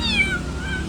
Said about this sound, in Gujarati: 2 કાળી બિલાડી છે